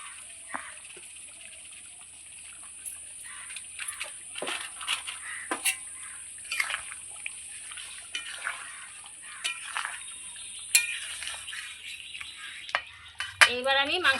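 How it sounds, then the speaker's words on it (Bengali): Sunrise garam masala powder stirred into a simmering mutton curry in a pot, a quiet scraping and clinking of spoon against metal with faint liquid bubbling, steady and close. "এইবার আমি সানরাইজ গুঁড়ো গরম মশলা দিয়ে দিচ্ছি মাংসের মধ্যে নামানোর আগে"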